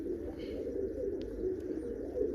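A pigeon kept by a hobbyist coos in a low, steady, soft murmur that runs throughout, with little else around it.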